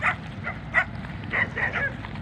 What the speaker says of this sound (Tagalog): tinatahulan ako ng aso